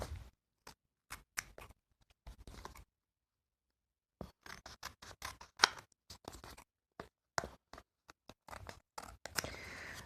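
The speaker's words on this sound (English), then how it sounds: "I'll just snip off the excess pieces now." Scissors snip excess pieces from a fabric craft project, a series of short, sharp, irregular cuts up close, with a silent pause partway through.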